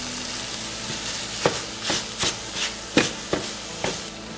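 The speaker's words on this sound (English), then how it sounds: "I'm going to brown up this sausage" Sausage browning in a pan on a home kitchen stove, a steady soft sizzle with a handful of sharp scraping and stirring knocks from a utensil, close and moderately quiet, no voices.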